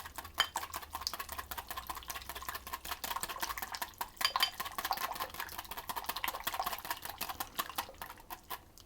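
Malted caramel chocolate chip muffin batter stirred in a mixing bowl, heard as soft, quick, rhythmic scraping and light clicks that continue steadily and quietly throughout with no talk.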